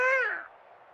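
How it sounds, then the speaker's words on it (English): A single short, rising-then-falling cat meow, close and clear, fading into a quiet room tone. "Hold on, meows over here. You woke up my cat."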